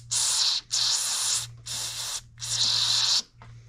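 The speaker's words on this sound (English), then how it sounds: "So, I'm just going to get a bit of carburetor cleaner." Carburetor cleaner sprayed onto a Honda GX120 carburetor in four bursts of close, loud aerosol hiss, each lasting about half a second to a second, separated by brief pauses.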